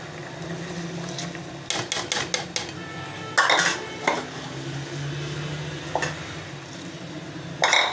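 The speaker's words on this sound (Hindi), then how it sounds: "अब हम इसमें चावल डाल देते हैं।" Rice is tipped into a pot of meat pulao with the meat nearly tender in salted boiling water, bringing sharp metallic clanks of a spoon against the pot, scraping stirs and a soft simmering hiss between the knocks.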